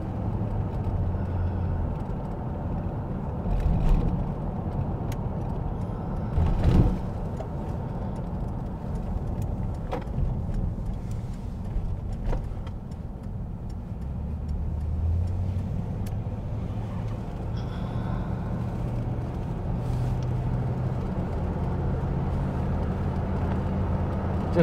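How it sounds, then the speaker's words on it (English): A 1979 Lincoln Mark V cruises southbound on the I-5 freeway, giving a steady, smooth rush of road and engine noise with a few brief swells and no talking. "just feel how smooth this car is going down the road"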